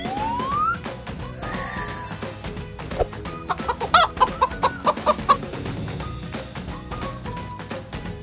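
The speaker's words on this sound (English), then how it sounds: "Chicken." A chicken clucks in a quick series of short, bright calls over playful background music with sliding siren-like tones.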